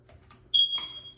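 A single high electronic beep from interconnected smoke alarms sounds loudly and holds steady, with a faint echo of the other connected alarms chiming in close by; no talking.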